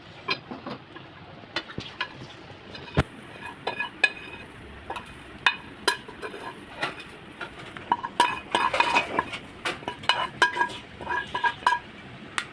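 Fried onion scooped out of a pan while cooking a Maharashtrian crab curry, with close scraping and clinking of a utensil against metal in irregular bursts, no talk.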